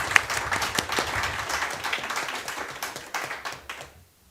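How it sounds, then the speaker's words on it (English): A room full of people applauds at a project's final conference, steady clapping from a modest crowd that gradually thins and fades out. "So I'd like a round of applause to thank Indrani for."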